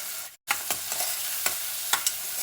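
A spoon stirs a green peas pulao mixture in a hot pan, giving steady sizzling with a few distinct scraping strokes and a brief pause near the start, close and alone.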